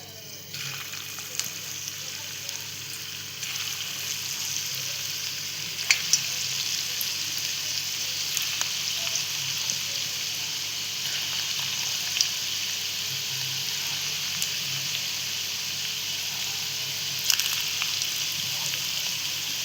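Potato fingers fry in hot oil with a steady, close sizzle and bubbling hiss that continues evenly throughout, broken by a few faint clicks and scrapes. There is no talk.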